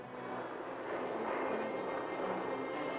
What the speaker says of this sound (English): At last, the planes were here.